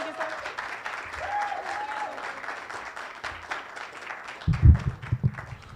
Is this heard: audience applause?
yes